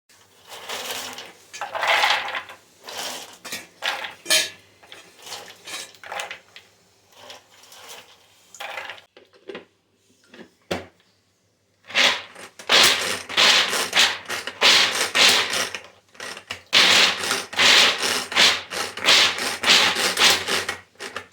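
Dried dates (kharik) being ground by hand: bursts of harsh, gritty grinding and rattling come in irregular rounds with short pauses and a sharp knock midway, loud and close.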